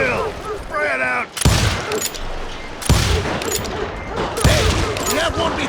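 Gunfire from a Call of Juarez Gunslinger shootout: loud, sharp shot bursts and volleys crack at intervals across the clip over a dense battle din, with a shouted voice early on.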